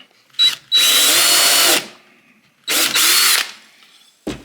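A cordless power drill drives a screw into a wooden Adirondack chair in two loud, close whirring bursts separated by a short pause, ending with a brief click.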